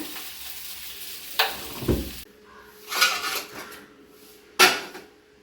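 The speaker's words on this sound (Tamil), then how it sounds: "இப்போ இந்த ஹீட்லேயே வந்து அது இன்னும் கொஞ்சம் நல்லா ஃப்ரை ஆகிடும்" Potatoes frying in a pan, a low steady sizzle broken by a few sharp clinks and scrapes of a utensil against the pan as they are stirred.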